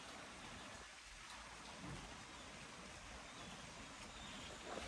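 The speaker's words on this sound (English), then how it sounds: "Yeah, it's raining." Steady rain falling outside during a rainy season, a constant dense hiss of drops on surfaces, faint and distant, with no talking.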